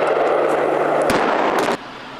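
Rock blasting at an open-pit coal mine, a dense roar of blast noise with a couple of sharp bursts near the middle, then cutting off abruptly to quiet.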